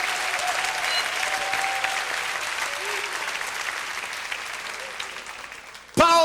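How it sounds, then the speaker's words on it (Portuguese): A church congregation at Lagoinha applauds during a graduation service, loud continuous clapping that gradually thins before a sharp, abrupt sound cuts in at the end. "aplauda mesmo o Senhor nessa noite"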